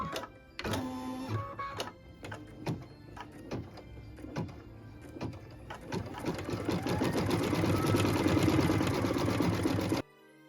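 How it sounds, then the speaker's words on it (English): An embroidery machine stitches a leaf design in medium green thread on a Christmas tree skirt, starting with a few separate clicks and thumps before settling into a loud, rapid, continuous whir that stops abruptly. "we're going to go ahead and start with stitching the same color, that medium green, our leaf design"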